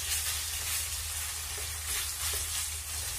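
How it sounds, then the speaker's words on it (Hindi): Chicken frying in onions in a pan, a steady, close sizzle with light stirring and faint scrapes throughout, no talking. "और चिकन को फ्राई कर लेते हैं इस प्याज में।"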